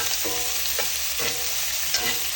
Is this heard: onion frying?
yes